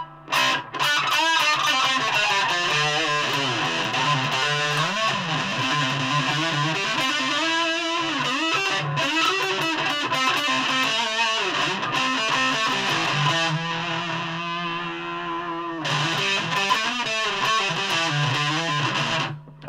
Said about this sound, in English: Nice and noisy the way real reverb is.